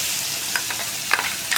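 Crushed onions frying in coconut oil left over from frying pappadam, a steady close sizzle with a few sharper crackles and stirring scrapes.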